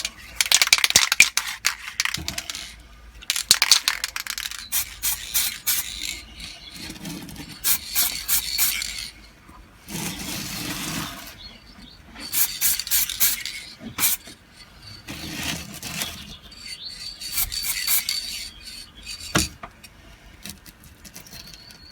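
Plasticoat Brilliant Metallic Silver spray paint hisses onto a model car body in a string of short, close bursts separated by brief pauses, about eight or nine sprays in all.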